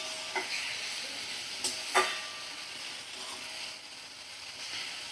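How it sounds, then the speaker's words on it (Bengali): Sliced onion and potato fry in oil over a low gas flame, giving a soft, continuous sizzle broken by a few sharp clicks of stirring. "এভাবে পেঁয়াজ আলু দিয়ে দেখো আমি ভাজা করে নিচ্ছি"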